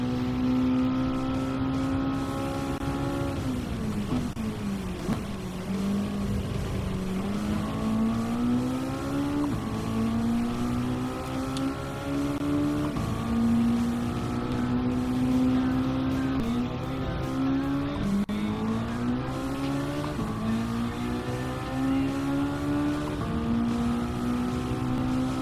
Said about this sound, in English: a Mazda Roadster touring car.